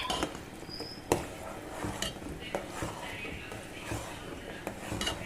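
Tamarind pulp upma being stirred in a pan, with a utensil scraping and tapping the metal in irregular, fairly quiet strokes.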